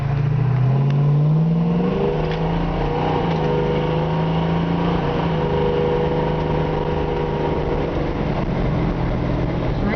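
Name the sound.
1971 Ford Torino 460 accelerating with automatic shifting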